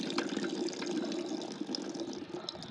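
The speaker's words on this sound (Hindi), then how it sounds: "तो अभी ये डालता हूँ पानी" Fresh, cool water pours steadily into a bird cage's water container on a hot day, a continuous splashing trickle heard up close with no talking over it.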